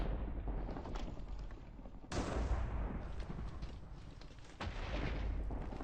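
Gunfire in a Minecraft modpack game comes as a dense run of sharp cracking shots, quiet overall, with sudden louder bursts partway through and no talking over it.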